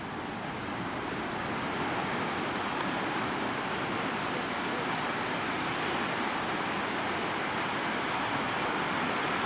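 Ocean surf rolls in at Rangiroa, French Polynesia, a loud, continuous roar of breaking waves with steady wash and wind, no voices.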